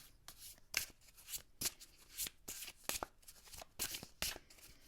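Tarot and oracle cards, a Celtic Tarot deck and a Revealing Light Oracle deck, are shuffled close up in quick soft riffles and slides, irregular bursts of papery rustle at a gentle volume.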